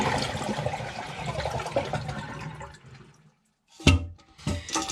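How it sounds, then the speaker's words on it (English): A Kohler toilet flushes with the water supply shut off, draining the tank in a loud rushing swirl that fades into near silence, followed by a few short gurgles and splashes as the last water drains without refilling. "Now our next step is going to be flushing down the rest of the water inside the tank."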